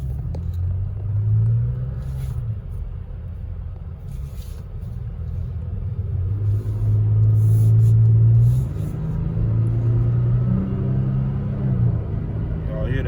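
A Chevrolet Silverado truck engine rumbles steadily in traffic, with a low drone that swells as it accelerates around the middle, heard from inside the cab.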